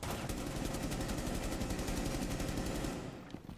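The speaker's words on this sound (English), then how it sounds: "Shoot the fucking cameras." Sustained rapid automatic gunfire in Rainbow Six Siege as a player shoots out cameras, loud dense bursts for about three seconds before cutting off.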